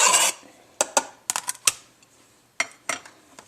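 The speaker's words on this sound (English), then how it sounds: "ceviche here, mix that around" Ceviche being tossed with fresh cilantro in a bowl, giving scattered clinks and scrapes of a utensil against the bowl: a brief burst, then short separate taps in small clusters, close and fairly quiet, with no talking.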